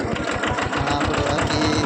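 Mini tractor pulling a cultivator through a sesame field, its small engine chugging in a steady rapid knocking pulse, loud and close with no talk over it.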